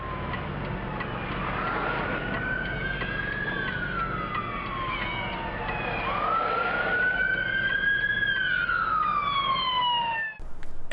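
An emergency vehicle siren wails in long rising and falling sweeps, loud and sustained, passing close with a brief dropout near the end.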